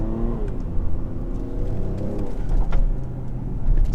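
A Mercedes GLE 43 AMG, apparently stock, rumbles with a deep exhaust note and revs, swelling louder toward the end, with faint bird chirps in the background.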